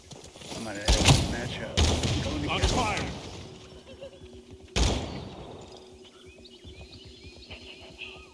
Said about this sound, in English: Who's shooting me from behind?